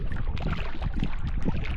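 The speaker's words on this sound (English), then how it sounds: "Wind's ripping pretty good now." Strong wind roaring across a lake on a wilderness canoe trip, a loud, continuous low rumble of buffeting gusts with no talk.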